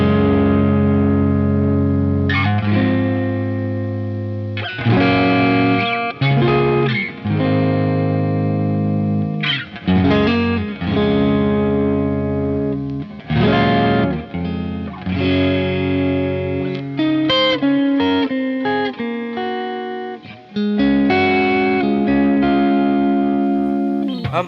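A Fender Player II Telecaster electric guitar plays through effects with drive and chorus, choppy chord stabs and riffs with short gaps between phrases, loud and up close, no talking.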